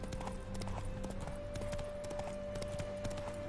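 Roach, Geralt's horse in The Witcher 3, clip-clops along in a steady trotting rhythm of hoof falls, close and clear, with a sustained tonal hum and faint background music underneath.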